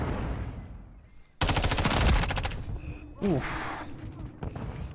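MTZ-556 rifle gunfire in Call of Duty: Modern Warfare 3, a loud, rapid automatic burst of roughly a second amid game effects, followed by scattered shots and a brief exclamation from a player.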